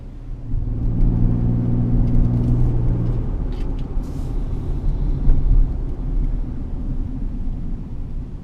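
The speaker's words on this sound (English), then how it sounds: "Now we're in downtown Akron in a pickup truck." A 2015 Chevrolet Colorado Z71 pickup drives through downtown Akron, its engine a steady loud rumble with a low humming drone in the first few seconds and road noise throughout, no speech.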